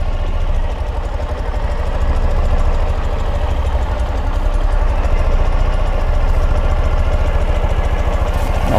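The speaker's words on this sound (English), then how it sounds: "So now I'm putting the bike in reverse." A 2012 Ural Gear Up sidecar motorcycle engine idles steadily up close with a low, even mechanical thrum; the gearbox is being shifted into reverse, though no distinct clunk stands out.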